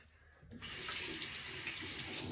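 A bathroom tap turns on and runs steadily for rinsing a shaving razor, a close, loud, continuous gush of water with no talk.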